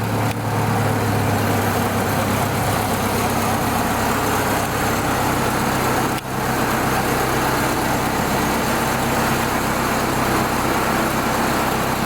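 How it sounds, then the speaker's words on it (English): A rough 1930 Ford Model A pickup engine idles steadily close by, a low rumbling drone with a ragged, puffing exhaust note from a hole in the muffler, holding throughout with one brief dip. "there's a hole in the muffler"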